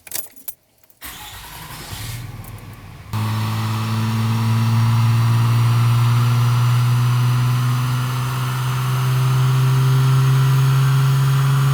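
A stock truck engine on a chassis dyno starts up and then runs loud and steady, holding a strong low drone with a slight swell partway through, with no talking.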